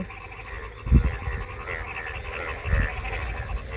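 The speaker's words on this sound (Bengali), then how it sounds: "কি পরিমাণ ব্যাং ডাকতেছে দেখেন" Frogs croaking outdoors in daytime morning, two loud deep croaks standing out over a continuous chorus of more distant frogs.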